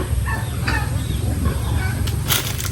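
Chickens cluck close by on a farm with pigs and goats, over a low, steady rumbling background, with a brief burst of higher calls toward the end.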